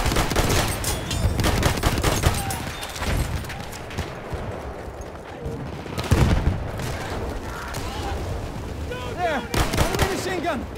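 Battlefield 1 combat with dense machine gun fire and explosions, a loud continuous barrage of rapid shots and booms, with game voices calling out over the chaos.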